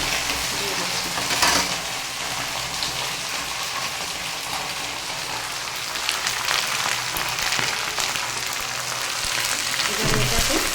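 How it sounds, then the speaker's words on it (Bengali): Tender jute leaves dropped into a hot frying pan, giving a loud, continuous sizzle and crackle like steady rain, with occasional stirring scrapes throughout. "পাট শাকটা দিয়ে দিচ্ছি।"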